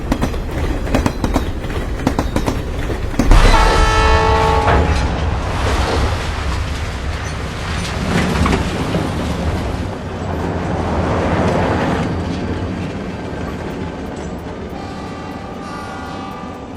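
A Roblox video game train rumbles and clatters past nearby, a sudden loud onset followed by rhythmic rolling and clanking that gradually eases, with no talking.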